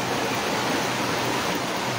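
Steady, loud rush of floodwater pouring through a river, a dense continuous roar with no pauses and no voices.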